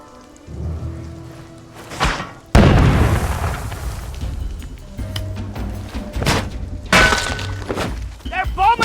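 Bombing in the video game We Happy Few: heavy explosions boom and crash with shattering debris in several loud bursts spread across the stretch, with voices talking in between.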